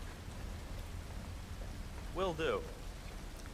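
Steady, soft rain falls in a Hitman 3 game scene, a constant hiss under a brief spoken reply partway through.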